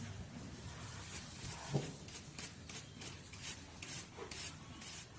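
A curry comb scrapes caked horse hair out of a grooming brush in a series of soft, close rasping strokes, quiet and rhythmic.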